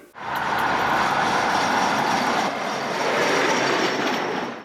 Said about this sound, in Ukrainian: Мова йде про угорський дизель-поїзд Д 1